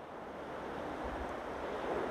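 Strong wind gusts across a mountain summit in Europe, a steady broadband roar buffeting the microphone with a low rumble, close and continuous, with no talking.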